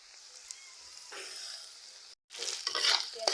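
Onions with salt frying in a pan, a soft sizzle with stirring scrapes that briefly cuts out, then returns louder and busier with rapid spatula strokes.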